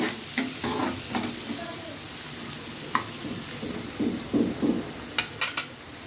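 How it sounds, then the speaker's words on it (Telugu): Onions and curry leaves frying in a pan for an egg stuffed capsicum curry, a steady close sizzle throughout with scattered spatula scrapes and taps, busier toward the end. "ఆనియన్స్ అన్నీ వేసుకోండి. మంచిగా ఫ్రై చేసుకోండి"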